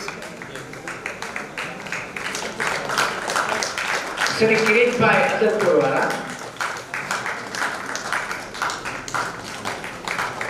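Audience members at a full-moon temple celebration clap steadily beneath a man announcing names over a loudspeaker; the scattered claps run throughout, swelling midway as his voice rises over them.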